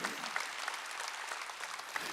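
Applause from a church congregation during a Korean sermon, a steady dense patter of many hands clapping throughout at moderate loudness with no talk over it.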